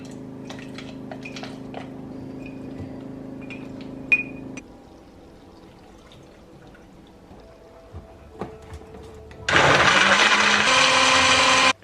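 A kitchen blender runs as a smoothie with kefir is made, a low motor hum with clinks of glass, a quieter pause with small knocks, then a loud high whirring blend burst near the end.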